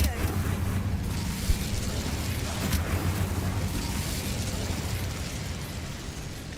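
Incendio fire spell cast in Hogwarts Legacy, a burst of flame followed by a sustained roaring, rumbling blaze that stays loud and dense throughout, with low booming weight underneath.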